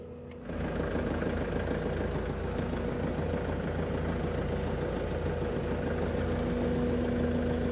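A vehicle engine runs steadily while driving, a constant low rumble with a faint high whine, close and loud for the whole stretch after a brief quieter start.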